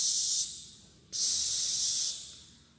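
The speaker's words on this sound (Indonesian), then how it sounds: "obat nyamuk semprot yang toh biasanya disemprot di kamar" Two bursts of mosquito repellent aerosol sprayed indoors: a short hiss, a pause, then a longer sustained spray that tapers off, close and fairly loud with no voices.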